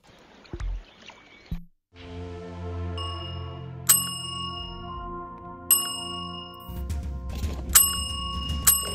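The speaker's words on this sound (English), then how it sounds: "Well, all the bells as we're joining." Bright bell chimes ring out in the Sansar video game as players join a session, several separate dings spaced a couple of seconds apart over a layered, tonal background, fairly clear and unaccompanied by talk.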